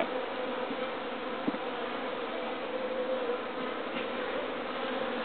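Honeybees buzz in a dense, steady drone from an opened beehive, close and continuous, with a couple of faint clicks and no talk.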